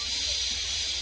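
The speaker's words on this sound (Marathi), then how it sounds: "ते काय फरशी कापायचं काम चाललंय" Floor tiles being cut nearby give off a constant high, hissing grind with a low hum underneath, steady throughout.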